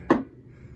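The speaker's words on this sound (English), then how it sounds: "Knocker." A single sharp, loud bang from the knocker solenoid of a Gottlieb System 80B pinball machine, a quick hit that rings off in a fraction of a second.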